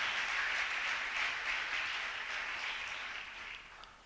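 A church congregation applauding during worship, dense steady clapping from many hands filling the room, loud at first and gradually fading.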